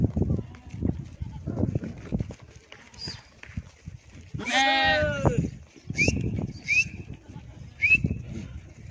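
A goat or sheep from a mixed herd of roughly three hundred goats and sheep gives one loud, wavering bleat midway, with short bird-like chirps after it; someone talks almost continuously over the animals.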